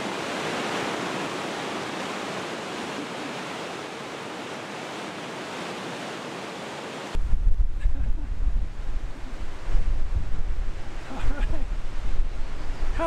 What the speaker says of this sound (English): Had a little gust of wind there